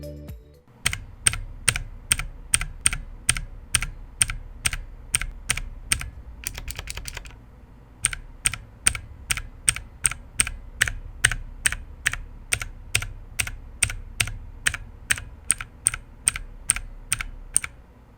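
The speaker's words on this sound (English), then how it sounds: "If you listen closely, you can hear the sound of the spring releasing its pressure when you release the switch." Mechanical keyboard switches, Outemu Blue, Outemu Red and Cherry MX, are pressed one after another at a steady rhythm, each giving a sharp close click, with a brief quick flurry midway.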